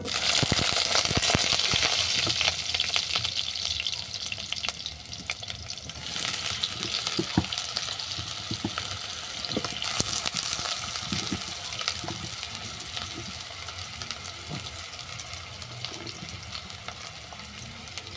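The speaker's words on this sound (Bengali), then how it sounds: "তেল গরম হয়ে গেছে এর মধ্যে সমস্ত সবজিগুলো আমি তুলে দিচ্ছি" Vegetables frying in hot mustard oil for a crab curry, a strong crackling sizzle that bursts loudly at first and then settles into a steady hiss with scattered stirring knocks.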